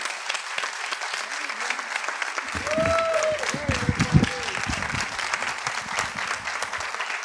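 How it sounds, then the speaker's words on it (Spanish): A room full of people at a master class panel in Puerto Rico bursts into steady applause that swells and holds, with a voice speaking over the clapping. "Así que un aplauso para Jacobo."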